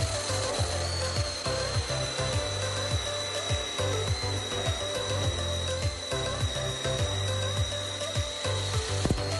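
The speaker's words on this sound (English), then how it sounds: "DeWalt will cut various types of materials in literally seconds" A DeWalt power tool cutting material, with repeated rhythmic cutting strokes over a steady motor whine and a high tone, close and fairly loud throughout with no talk.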